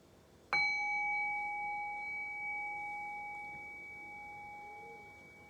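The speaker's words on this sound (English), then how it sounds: "So I'll ring the bell and I'll guide us in." A single meditation bell is struck once, ringing out clearly and then sustaining a long, slowly fading tone in a quiet room.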